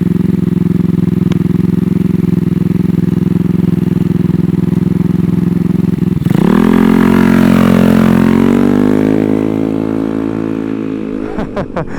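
A GY6-engined Honda Ruckus scooter idles steadily and loud while warming up, holding a constant low drone, then the pitch rises and wavers as the engine is revved before settling back down.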